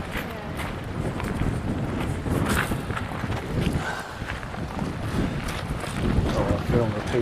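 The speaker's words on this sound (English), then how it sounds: "See if we can hopefully get out of this wind and just hoping it's not making too much racket." Strong wind buffets the microphone on a beach, a steady rushing roar with gusty swells that swamps the scene and stays constant throughout.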